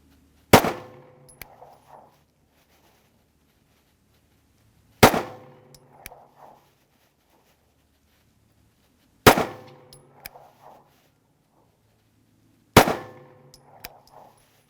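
Four sharp, echoing gunshots from a SIG Sauer P320 pistol are fired at a range, spaced roughly four seconds apart. Each report is followed by a brief ringing tail and quiet between shots.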